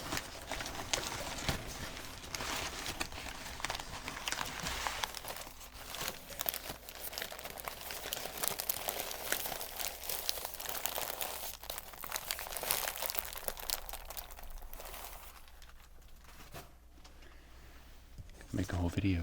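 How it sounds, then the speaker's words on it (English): Brown wrapping paper crinkles and rustles steadily during an unboxing, close and continuous, with occasional voice in the background and a quieter stretch near the end. "Nice crinkly brown paper."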